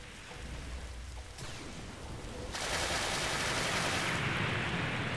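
Rain in the Blox Fruits video game: a faint, steady hiss of falling rain that grows noticeably louder and brighter partway through and stays as an even wash with no talking.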